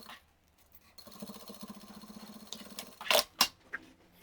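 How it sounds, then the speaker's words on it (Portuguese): A sewing machine with a presser foot runs a short seam through the fabric lining of a glasses organizer, a faint, quick rhythmic whirr of stitching followed by a few louder clicks and handling knocks. "vou passar uma costurinha com um pé de máquina"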